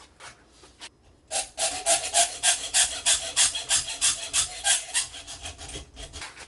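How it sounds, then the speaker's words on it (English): A hacksaw cuts a piece of metal clamped in an old machine vise for a junk guitar build, about a dozen quick, regular rasping strokes up close after a brief quiet start. "we're gonna hacksaw this about right there"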